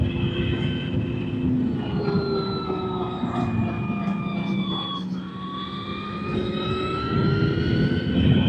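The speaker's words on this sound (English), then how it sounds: "Sounds you hear is the regen of the bike doing the braking for me, and then the accelerating" An electric motorcycle on the Tail of the Dragon road, regenerative braking and then accelerating: thin, high motor whines sliding down and back up in pitch over steady wind and road rush.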